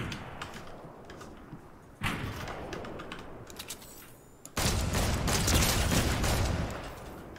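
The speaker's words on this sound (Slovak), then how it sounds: "A ešte tu niekto strieľal." Gunfire from the Fortnite video game crackles in rapid bursts and scattered shots, some sounding distant, then builds into a dense, sustained volley of game combat noise with no talking.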